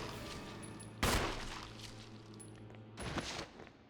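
Two sharp gunshots in the Resident Evil Remake video game, about two seconds apart, each a loud crack with a brief decaying tail over quiet game ambience.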